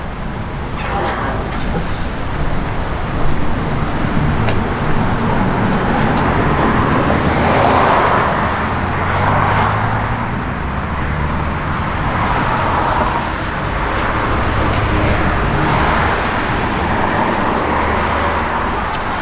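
A 1962 Chevrolet Impala fitted with an electric fan drives down the road, its steady engine and road-rumble drone running continuously and fairly loud, with a few swells as it moves along.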